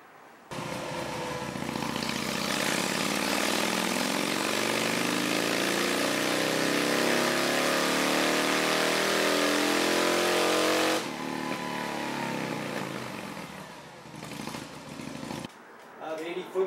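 A 96 cubic inch Harley-Davidson motorcycle engine roars through a sustained dyno pull, loud and close, climbing steadily for about ten seconds before cutting off abruptly and winding down.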